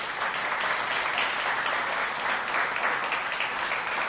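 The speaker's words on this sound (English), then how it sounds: "let's just have a big round of applause for the people who put this thing together" Audience applause at a community ceremony, dense steady clapping from a roomful of people, sustained and even throughout.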